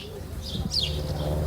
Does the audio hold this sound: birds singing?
yes